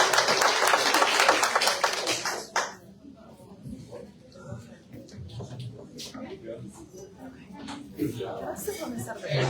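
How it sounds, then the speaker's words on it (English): Audience round of applause at a city council candidate forum, a burst of clapping for the first couple of seconds that quickly fades, followed by quiet room murmur and people talking. "So let's give them a round of applause."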